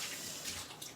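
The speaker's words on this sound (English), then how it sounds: "Let me wash my hands." Water runs from a kitchen tap while hands are washed, a soft steady hiss with small splashes near the end, faint and close, over a brief moment with no talking.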